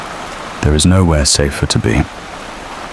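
Steady rain falls on a cozy little cabin in a forest, a soft continuous hiss running beneath a calm voice speaking.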